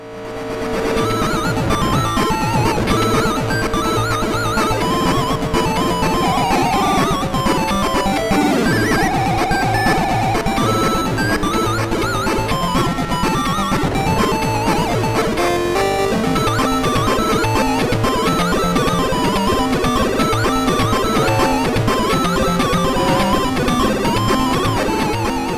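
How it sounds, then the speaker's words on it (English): Motor Psycho video game audio plays through the Sega Master System sound chip as a dense, loud, continuous wash of layered chiptune tones and buzzy noise, with no voices. "That was the Master System sound chip a second ago, by the way."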